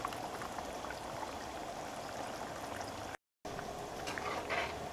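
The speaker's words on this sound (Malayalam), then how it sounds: "ഈ കറി നന്നായിട്ടൊന്ന് തിളച്ചിട്ടുണ്ട്." Chickpea kadala curry bubbling in a pot, a steady dense simmering and popping of thick liquid held at a constant level, with a brief dropout partway through.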